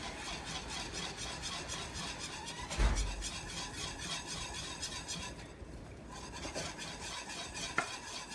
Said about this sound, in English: And then we're gonna keep mixing it.